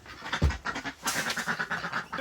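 Ducks quacking in a barn at feeding time during a blizzard, with a run of short, rhythmic calls close by after one louder thump.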